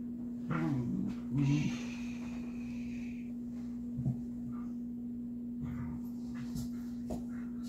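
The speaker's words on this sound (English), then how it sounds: "Dogs sound funny, don't they?" A dog gives a couple of short whimpering, yipping calls early on, then stays quiet over a steady electrical hum in an indoor room.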